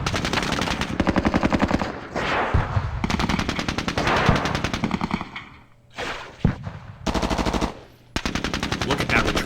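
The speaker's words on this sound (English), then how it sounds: "Look at that return fire." Automatic weapons fire in the Vietnam War strategy game Squad Battles: Vietnam, loud rapid machine-gun bursts in long rattling strings separated by short pauses, dense and continuous throughout.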